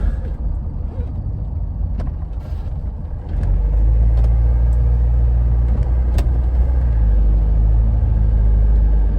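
A Renault Espace's engine rumbles steadily and close as the car drives onto ramps, growing heavier and louder after about three seconds, with faint clicks and knocks over the low drone.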